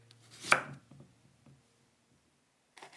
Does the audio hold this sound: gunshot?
no